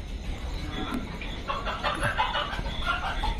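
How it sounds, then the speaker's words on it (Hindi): Desi hens and roosters on a poultry farm at night give off scattered clucks and soft calls over a steady low background hum, with some brief voices nearby. "इसमें जुनैद भाई के भी देसी मुर्गी मुर्गा सब अवेलेबल होते हैं"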